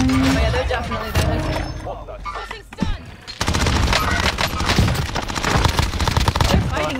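Rapid, dense gunfire crackles through a video game shootout, loud bursts of automatic fire with a short lull before a heavier sustained volley, while players talk over it.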